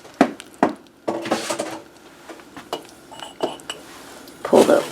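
A saucepan of hot candy syrup at 310 degrees is pulled off the stove with several sharp metallic clanks and scrapes, close by, mixed with softer clinks and brief speech.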